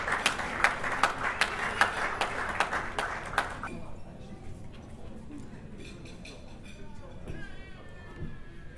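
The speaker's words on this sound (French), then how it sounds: "Lorsqu'il s'approche, nous acclamons très fort." Applause and cheering from an audience at a fifth-anniversary celebration dinner, loud rhythmic clapping for a few seconds that fades into quieter crowd murmur and chatter.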